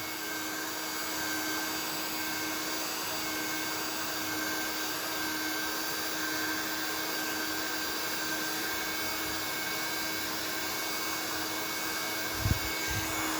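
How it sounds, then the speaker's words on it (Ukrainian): A steady, loud blowing roar of a heat gun pushing moderately hot air onto a plug for a Daewoo Nubira support bearing nut on a Lanos, continuous throughout with a brief low thump near the end. "Включаю фену."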